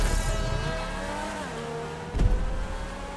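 An electric car races in a GTA 5 online stunt race, giving a steady whining drive tone with shifting pitch and a brief thump partway through. The sound is loud and continuous, with no voices.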